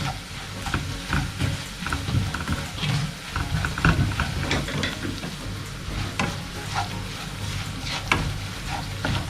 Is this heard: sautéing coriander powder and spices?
yes